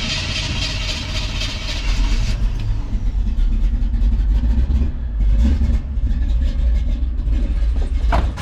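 A Chevrolet squarebody pickup engine cranks and runs, producing a loud, rough, continuous rumble that swells with revving midway through.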